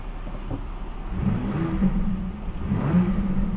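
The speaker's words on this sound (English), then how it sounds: "When you put it in sport, you can hear some burbles." A 2025 BMW X3 M50 idling in sport mode gives a low, rumbling exhaust with uneven burbles and swells, steady and moderately loud throughout, with no talking.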